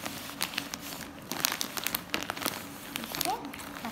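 A plastic bag crinkles and rustles in repeated close bursts as a cotton pillowcase is pulled out of it, with a voice talking over the handling.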